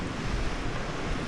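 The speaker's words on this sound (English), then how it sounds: "This is the biggest rapid on the section." Whitewater roars through the biggest rapid on a stretch of the King River in Victoria, a dense, steady broadband rush that is close and loud, with no voices.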